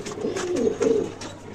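A pigeon coos close by in a pigeon loft in a low, rolling murmur, a few soft throaty pulses in a quiet setting.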